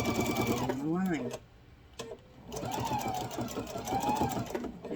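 A sewing machine stitches along a line on a fabric grocery bag, whirring close by with a fast, even mechanical rhythm while a voice talks over it.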